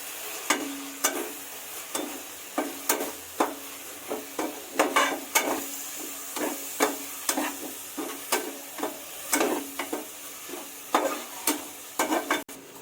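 A spoon works through mushroom biryani mixture with yogurt in a cooking pot, scraping in steady rhythmic strokes about once a second over a continuous soft sizzle, close and fairly loud with no talking.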